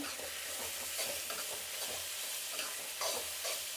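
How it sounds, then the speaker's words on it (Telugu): A mango pulihora mixture with asafoetida and salt being stirred in a pan, a close, continuous sizzle with scraping strokes of a spoon at an even pace. "ఇప్పుడు దీన్ని బాగా కలుపుకునేద్దాం."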